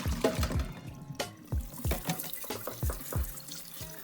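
Running water splashes and gurgles into a sink, with irregular clunks and knocks of drained jackfruit being rinsed under the stream, close by.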